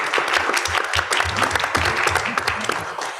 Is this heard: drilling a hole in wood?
no